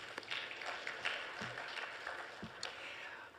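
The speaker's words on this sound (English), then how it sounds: "Let's give her a round of applause." Applause from an audience, a steady patter of clapping hands filling the room at moderate volume.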